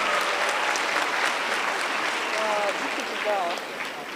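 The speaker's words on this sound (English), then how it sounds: "Let's give them a round of applause" Applause from the crowd at a girl guides centenary celebration and World Thinking Day, a dense, steady wash of clapping with faint whistle-like tones briefly rising near the end.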